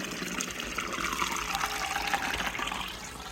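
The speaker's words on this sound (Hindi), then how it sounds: "चावलों में से पानी जो है ना वो निकाला जा रहा है" Water drains out of a pot of soaked rice in a home kitchen, a steady gushing, splashing flow heard close up and continuously, with no talking.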